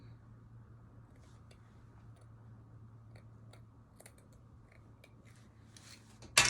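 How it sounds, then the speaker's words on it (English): Faint, sparse snips and clicks of scissors cutting fabric against a low steady hum, with a louder sharp rustle at the very end. "I'm going to take my scissors, cut this part open."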